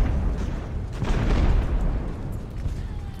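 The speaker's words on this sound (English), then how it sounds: "That sounded like my cannons going off." Cannons fire during an amphibious landing battle in the naval game Ultimate Admiral: Age of Sail, heard as a muffled, rolling boom that swells and fades in the distance.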